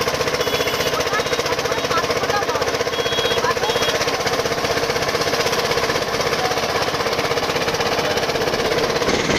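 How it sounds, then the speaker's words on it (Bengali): Two motorbikes ride past at night through the quiet seaside town of Digha, a loud, unbroken rattling engine drone that stays close and steady from start to finish. "এই যে দুটো গান্ডু বাইক নিয়ে যাচ্ছে"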